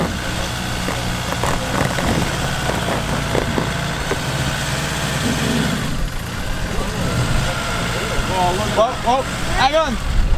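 A 4x4 engine idles steadily throughout a vehicle recovery on coastal terrain, a constant rumble sitting under voices talking nearby.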